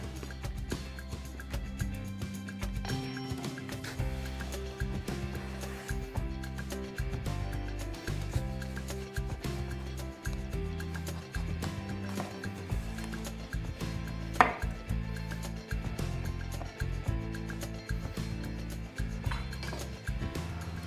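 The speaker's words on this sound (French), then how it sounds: "Et on fait des tranches à peu près 1 cm" Knife cutting an aubergine lengthwise into slices about 1 cm thick on a board, giving repeated close chopping strokes over a steady background of low hum and kitchen noise.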